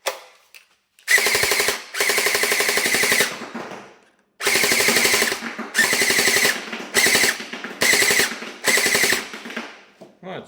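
Viper LVOA airsoft rifle by X-Force Tactical firing full-auto bursts, rapid close mechanical clatter in about six strings of one to two seconds separated by short silences.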